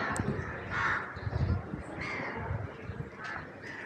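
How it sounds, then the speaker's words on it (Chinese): Crows caw repeatedly outdoors in Nepal, in a spot crowded with cattle. The harsh calls come at a moderate distance over steady background noise and occasional murmuring voices. "好多乌鸦"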